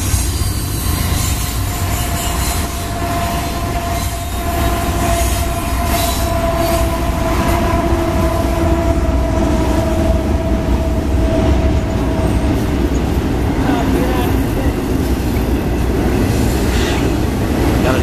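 Loud freight train led by three CSX locomotives passing near a meet with another train, steady heavy rumble of cars with a long metallic wheel squeal ringing through the middle.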